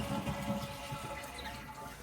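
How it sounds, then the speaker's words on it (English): A household toilet being flushed after its water supply valve was shut off, a soft rushing and gurgling of water draining, fairly quiet and continuous, with no talking. "shut the water off to the toilet so it doesn't fill after you go ahead and flush that"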